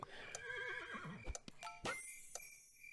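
A horse whinnies with a wavering, high-pitched neigh in the video game Super Auto Pets, followed by a few sharp clicks and soft chimes over a low background.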